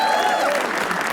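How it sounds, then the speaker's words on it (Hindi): An audience at a comedy roast show applauds in a steady, dense wash of clapping that stays loud and even throughout the brief moment. "तालियां इनके लिए।"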